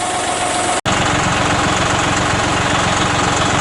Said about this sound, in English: I got Tim back up where he belongs on the tractor.